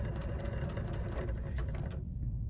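A BERNINA sewing machine stitches in a steady, close mechanical whir with rapid needle ticks, stopping abruptly near the end.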